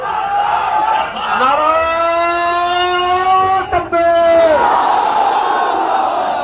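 A large religious rally crowd chants takbir, Allahu Akbar, in loud, drawn-out unison, the massed voices swelling together, breaking off briefly, then roaring back up.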